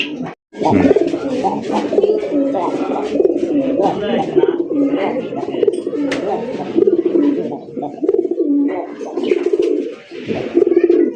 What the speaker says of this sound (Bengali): খুব ডাকের একটা কবুতর